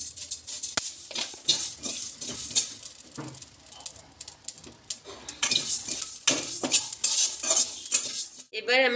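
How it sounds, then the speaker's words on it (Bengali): Whole cumin and coriander seeds are dry-roasted in a pan with a metal spatula, giving repeated scraping and clinking stirs over a faint sizzle and light pattering of the seeds. "আমি একটু জিরে আর ধনেকে হালকা লাল করে ভেজে নেব।"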